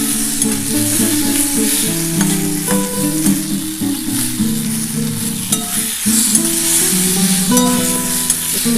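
Tomato sizzles and fries in a pan with drumstick and potato curry while a utensil scrapes and stirs it. The sound is close, steady and busy, with no voices.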